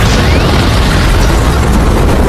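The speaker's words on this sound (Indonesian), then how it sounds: "Bob menyalakan koreknya dan membuat Paradise Falls meledak." A loud explosion in an animated film roars through the whole stretch, a dense rumbling blast with no quiet moments.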